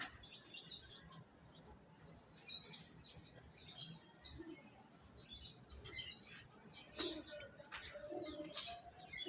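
Cooing from a female Naptha pigeon, soft repeated low calls mixed with other birds' chirps and scattered high tweets, fairly faint against steady background noise.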